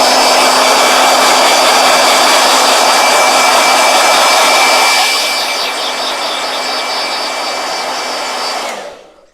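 A blow dryer blasts loud and close with a steady whine, then drops to a lower setting and cuts off at the end.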